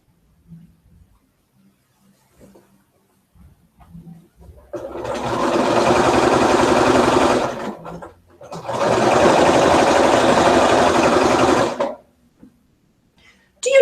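A home sewing machine chain-pieces quilt fabric in two steady runs of about three seconds each, a close, even whirring stitch separated by a short pause, with quiet handling sounds before.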